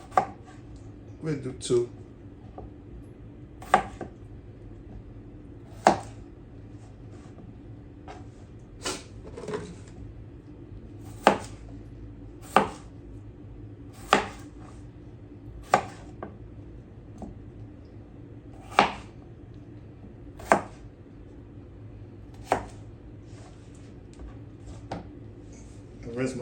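A knife chops potatoes on a cutting board while preparing a crawfish boil, sharp isolated thwacks spaced a second or two apart over a quiet background, with brief talk in between.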